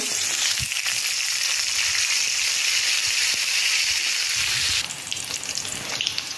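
Curry leaves dropped into crushed garlic frying in hot oil for a sprouted moth bean usal, giving a loud, steady sizzle that runs throughout and shifts slightly in texture near the end, with no talking.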